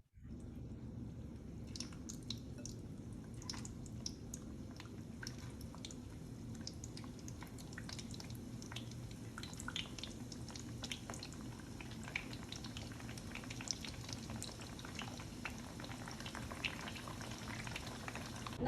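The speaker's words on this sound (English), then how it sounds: "After 2 or 3 minutes we start to put the eggplant in the pan like this." Eggplant frying in a hot pan while preparing an Egyptian dish, a steady close sizzle and crackle with scattered pops and spatters running throughout, no talk.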